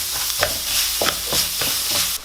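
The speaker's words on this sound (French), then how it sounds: "On laisse un tout petit peu colorer le riz avec les oignons" Rice and onions frying for a mushroom risotto, a continuous sizzle broken by several scraping stirs of a spoon in the pan, close and alone.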